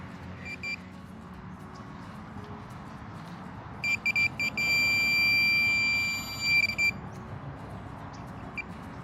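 A Minelab 800 metal detector sweeps over a park target, giving short high beeps and then a sustained steady tone lasting about two seconds, over a low background hum.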